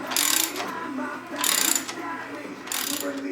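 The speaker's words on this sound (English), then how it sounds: "Taking the spring compressor off it now." A spring compressor is worked off a front suspension coil spring during an LS swap teardown. Three bursts of ratcheting, metallic clicking come close up, with short pauses between them.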